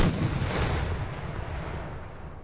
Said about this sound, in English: Cannons open fire when ready.